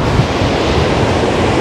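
Strong storm waves crash on the sea shore at Anapa, a loud, dense roar of surf mixed with wind buffeting the microphone.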